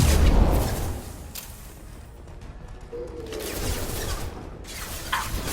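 Bursts of gunfire in the game Mass Effect: Legendary Edition, sharp cracks and rattling volleys that start loud, briefly ease off, then return with more shots and impacts.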